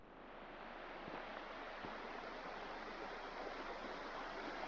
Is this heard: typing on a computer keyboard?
no